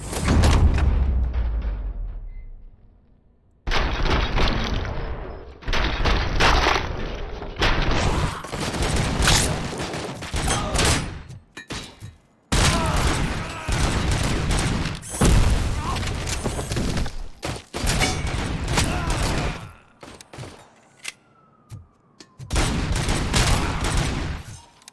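Loud gunfire and booming impacts from the Robocop video game fill most of the stretch in long heavy bursts, broken by brief quiet gaps, with game voices mixed underneath.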